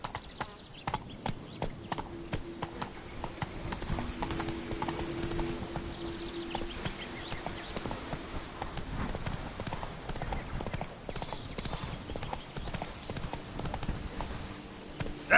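Horse hooves clip-clop steadily in a PS4 video game, a continuous close trotting rhythm with faint voices in the background.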